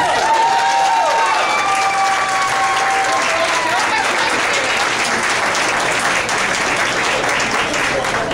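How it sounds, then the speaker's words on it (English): Loud, sustained applause from an audience celebrating a softball team after its ODAC Softball Tournament success, dense clapping with some cheering and voices mixed in throughout. "Let's give them a round of applause"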